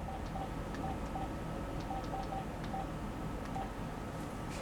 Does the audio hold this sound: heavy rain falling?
no